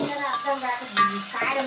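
Coriander and onion go into a hot frying pan, sizzling steadily through a short stretch with a brief stirring scrape near the middle, close and moderately loud, with no talk.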